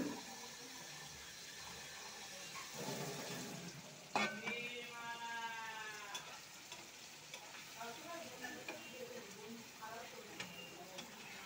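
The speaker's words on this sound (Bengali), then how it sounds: "তারপর আমি একটু জল দিয়ে দেবো।" Water poured into a pan of frying hilsa fish curry, a splash and hiss rising over steady sizzling, then bubbling and soft stirring, close and moderately quiet.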